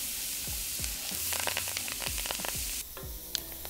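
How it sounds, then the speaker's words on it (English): Onions, green peppers and celery hit a roux and sizzle steadily, with a broad frying hiss and a few soft stirring scrapes and knocks against the pot, close up with no talking. "So we are going to toss in our onions, green peppers, and celery right into the roux."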